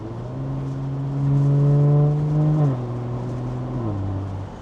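A stage 2 remapped BMW G14 840i with a catback exhaust and 200-cell downpipe makes 485 hp. Its exhaust drones close by and loud, rising in revs, then stepping down twice as it shifts, with no talking.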